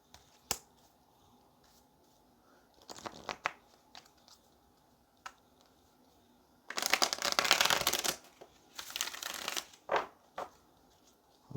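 Tarot cards are shuffled close by in brief riffling bursts, two longer rustling runs standing out among scattered soft taps and clicks in a quiet room.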